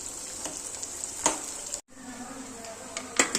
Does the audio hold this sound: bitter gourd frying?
yes